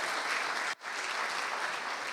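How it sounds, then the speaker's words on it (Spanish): A church congregation claps together in a dense, even burst of applause with a brief gap, the clapping filling the room close and loud. "le damos un aplauso a estos hermanos que se acordaron de la tarea"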